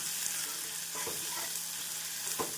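Onion and ginger garlic paste sauté in a pan, with a steady sizzle and occasional scraping stirs, close up.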